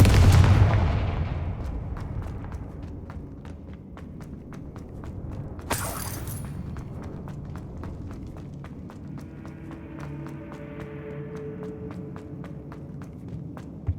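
Confringo fire spell blasts in the video game Hogwarts Legacy: a heavy boom opens the clip, a second sharp burst comes midway, and regular footsteps and a low ambient rumble carry on between them.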